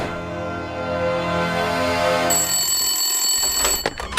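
A loud, sustained telephone ring fills the clip, shifting to a higher-pitched trill partway through before ending with a few clicks.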